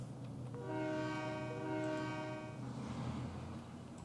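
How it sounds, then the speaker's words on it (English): Freight train horn sounding a sustained, loud multi-tone chord near Allegheny East Yard on a model or simulated railroad, holding for about two seconds over a steady low rumble of rolling railcars. "And another train that we have not looked at very often recently."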